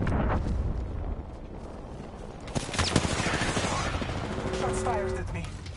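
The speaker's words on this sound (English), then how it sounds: "Shots fired at me." Bursts of gunfire aimed at the player in an online shooter video game, with sharp cracks and rapid volleys over a steady bed of game noise and effects, while a voice talks throughout.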